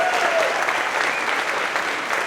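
An audience claps steadily for a company employee's promotion at a monthly staff celebration, a dense, even wash of applause held throughout without a break.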